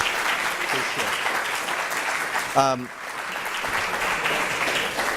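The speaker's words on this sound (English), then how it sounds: "So I'd like to lead applause for, thank you" Sustained audience applause at a community meeting, a steady wash of many hands clapping throughout with a brief voice cutting in near the middle.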